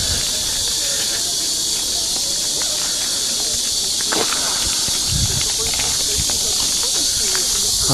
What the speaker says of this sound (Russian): А, кругом цикады гремят.